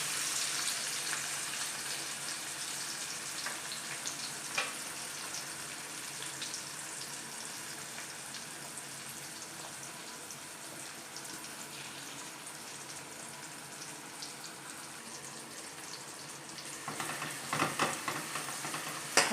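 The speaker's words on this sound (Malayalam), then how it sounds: "ഞങ്ങളൊരു ചീനച്ചട്ടി വെച്ചിട്ടുണ്ട് കുറച്ച് വെളിച്ചെണ്ണ വെച്ചിട്ടുണ്ട് ഇനി നമുക്കിതിലേക്ക് സവാള ഇട്ട് കൊടുക്കാം" Onions sizzle softly in hot coconut oil in a wok, a constant faint crackling hiss with a few louder stirring scrapes near the end.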